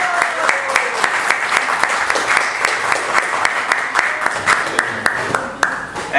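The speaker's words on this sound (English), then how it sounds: "please give a round of applause for Prabhu" An audience at a temple opening gives a round of applause for a guest. Many hands clap in a brisk, continuous patter that stays fairly loud and even for several seconds.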